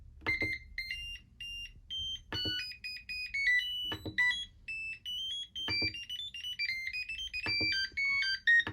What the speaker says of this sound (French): Donc, on peut choisir une sonnerie.